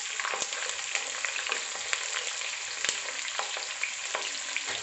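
Onion and green chilli sauté in hot oil in a pan for prawn biryani, giving a steady bright sizzle with occasional sharp crackles and spatula stirs, close and continuous with no talking.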